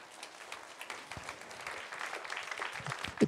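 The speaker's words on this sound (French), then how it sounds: "Amen, tu peux applaudir Jésus." Applause from a church congregation during a French-language worship service, a moderate spread of clapping that swells toward the end, heard from a mid distance without talk over it.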